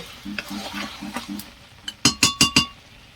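Chicken and jackfruit curry being stirred in a pan, with a soft sizzle, a run of light spoon scrapes, then four sharp metallic clinks of utensil against the pot near the end.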